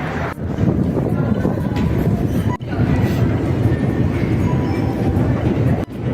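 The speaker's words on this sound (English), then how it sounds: "I'm going to show you the metro." A Tbilisi metro train in Georgia roars through a deep underground line, loud continuous rumble and rattle with a couple of brief dips, close and enveloping.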